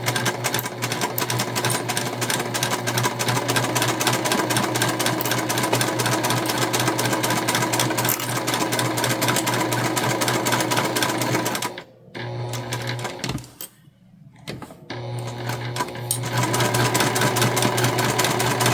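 A domestic sewing machine runs steadily, backstitching stocking fabric for a holiday project, with a continuous mechanical hum that stops briefly twice near the end before resuming.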